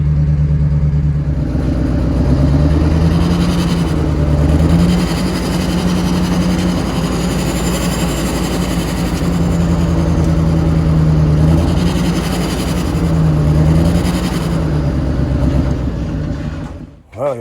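A twin-turbo Duramax race truck engine running rough roars loudly and continuously, its tone wavering and surging unevenly before cutting off abruptly at the end.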